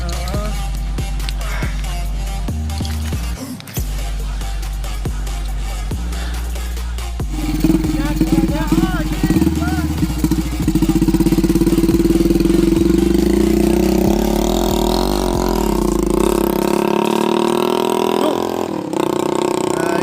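An old, worn-out motorcycle runs with a loud, rough low engine drone that rises in pitch as it rides on, with voices talking over it.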